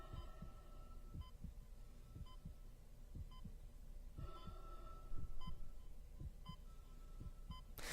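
Isaac Clarke's heartbeat in the Dead Space video game thumps steadily in a quiet, humming spacesuit ambience, with faint breathing and small electronic beeps from the suit timer recurring throughout.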